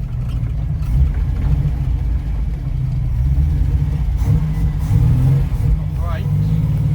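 Low rumbling engine of a Ford Capri race car, unstarted for 20 years, driving over a bumpy field, steady and close, with voices talking over it.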